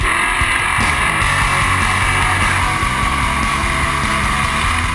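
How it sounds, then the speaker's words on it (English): Sprint cars, high-powered, lightweight, open-wheeled racers, roar around the dirt track at Attica Raceway Park, a loud continuous engine drone with layered revving and no speech. "High-powered, lightweight, open-wheeled machines built for one thing and for one thing only, to be the fastest thing on dirt."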